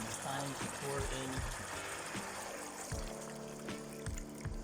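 Water poured into a cooking pot holding radish, tomato and onion for salmon head sinigang, a soft trickling splash under a voice talking, with faint clinks and kitchen noise.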